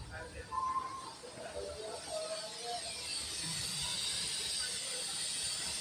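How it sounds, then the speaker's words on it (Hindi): A pressure cooker whistles steadily while potatoes boil in a home kitchen, a continuous loud hiss that builds and holds, with a voice talking over its opening seconds. "आवाज़ आ रही होगी आपको सीटी की। तो यहाँ उबल रहे हैं आलू"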